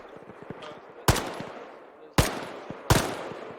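Rifle shots in the military shooter game Arma 3, three sharp, loud reports spaced roughly a second apart, each with a decaying echo tail, over faint background ambience.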